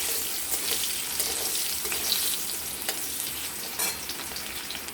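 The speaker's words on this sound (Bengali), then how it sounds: "এটাকে কিছুক্ষণ লাল লাল করে ভেজে নেব" Potatoes frying with salt and turmeric give a steady, close sizzle with soft stirring scrapes and scattered crackles, with no talk.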